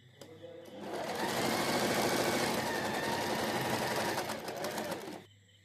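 A sewing machine stitches a shoulder seam on a garment in one continuous, close, rapid whirring run of about four seconds, starting after a brief pause and stopping cleanly at the end.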